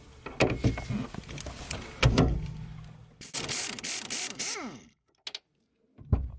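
Ratchet working on an 18 mm strut bolt of a Volvo S60 during a lowering-spring install, with scattered clicks and knocks, then a quick run of ratcheting clicks before the clip goes quiet.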